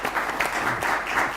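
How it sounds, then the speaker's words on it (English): Audience applause for a panel at a business festival roundtable on Ghana's automotive sector, a dense steady clatter of many hands clapping throughout, fairly loud with no talking over it. "I think the panel deserves a round of applause"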